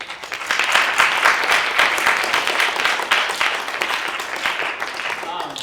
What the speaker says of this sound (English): let's get a collective round of applause for the documentaries